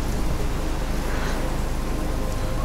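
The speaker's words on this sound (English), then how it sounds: "So this is just in a storm." A storm in the video game Life Is Strange: steady, heavy rain hisses loudly and continuously, with a low thunder rumble blended underneath and no voices.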